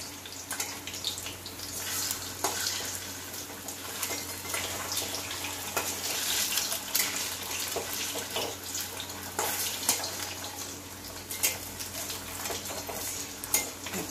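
Eggs frying in hot oil in a pan for an egg chili dish, a steady crackling sizzle with intermittent louder pops and spatters, plus occasional utensil scrapes; no one speaks.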